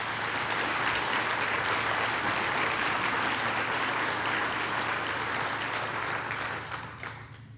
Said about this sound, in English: Every time it's an applause line, Jerry.